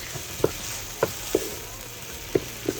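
Chicken tikka masala being stirred in a slow cooker after sugar and soy sauce go in, with a steady sizzling hiss and five soft, evenly spaced taps of the utensil against the pot, no talking.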